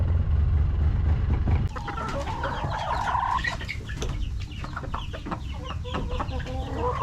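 Backyard chickens clucking and squawking close by in a pen, busy overlapping calls after a low rumble cuts off, with steady farmyard noise underneath.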